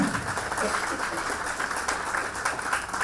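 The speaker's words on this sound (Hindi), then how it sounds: "शिदांशु जी प्लीज जबरदस्त तालियां।" Audience applause for Shidanshu at a family fun club event, a steady dense wash of clapping that fills the whole stretch at moderate level with no clear pauses.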